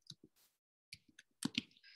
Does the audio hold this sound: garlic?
no